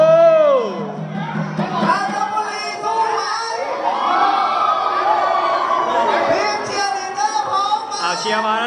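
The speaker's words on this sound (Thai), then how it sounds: "เชียร์มาแล้วนะครับ" School supporters at a sports match in Chanthaburi, a big crowd cheering loudly and continuously, with children shouting, whoops and chanting voices rising and falling.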